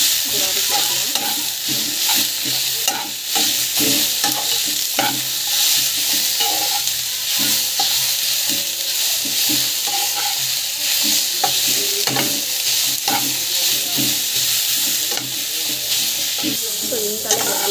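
Tomato, onion, coriander and mint being sautéed in a pan for chutney, a steady sizzle with repeated scraping and stirring clicks of a spoon, close and without speech.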